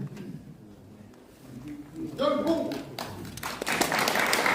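Applause from a seated audience welcomes an arriving guest at a Korean academic seminar, swelling into dense, steady clapping over the last couple of seconds, with a voice speaking over it.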